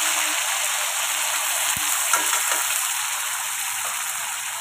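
Onion, tomato, ginger and garlic fry in a pan for a prawn malai curry, giving a dense, even sizzle up close with a single sharp clunk of a utensil partway through.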